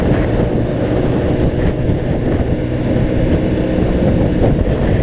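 Wind buffets a rider on a Honda CBR600RR motorcycle in windy conditions as a loud, steady, low roaring rush with no pauses and no voices.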